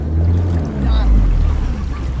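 A fishing boat's engine runs at sea with a loud, steady low throb that rises briefly in the middle, close to the microphone.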